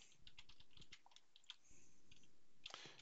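Bursts of quick key clicks from typing on a computer keyboard, close but quiet, with short pauses between bursts.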